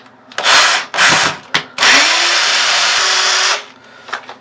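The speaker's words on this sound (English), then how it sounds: "we're going to go ahead and remove these two screws here" A power drill whirs in short bursts and then one longer run, backing out screws from a shower valve cover, loud and close with brief pauses between spins.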